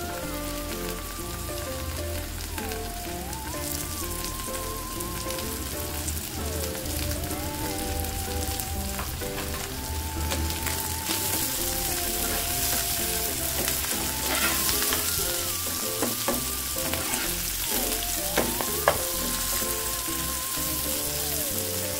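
Coriander bhorta mixture frying in a pan, a continuous crackling sizzle with occasional stirring scrapes, steady and close, under soft background music.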